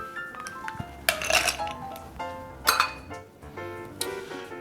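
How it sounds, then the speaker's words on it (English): Several ice cubes clink and clatter into a glass in a few separate bursts, close and fairly bright, with quiet gaps between drops. "And in a glass, we'll get some fresh ice."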